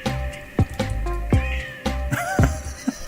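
Sampled cat meows repeat through a strange electronic music piece, several distinct mewing calls with tonal swoops layered over a droning backing with reverb.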